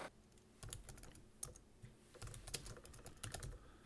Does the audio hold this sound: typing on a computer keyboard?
yes